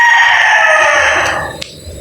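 A gamecock rooster crows loudly and close by, one long drawn-out call trailing off, followed by a short sharp click.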